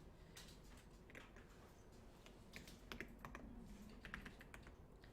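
Keys on a computer keyboard, including the Korean Hanja key, are pressed during a beginner Excel lesson, making quiet, close, irregular clicks and taps in small clusters with no talking.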